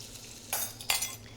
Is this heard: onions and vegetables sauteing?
yes